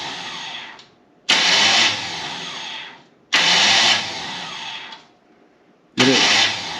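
A rat rod car's starter cranks in three separate bursts, each a loud whirring grind lasting about a second or two before dropping back to a quiet gap, close to the listener.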